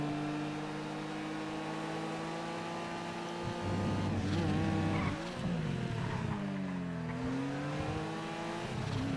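A four-wheel-drive Sultan sports car in GTA FiveM drives off-road, its engine droning then revving hard and shifting pitch as it loses traction, with a brief scrape, no voices.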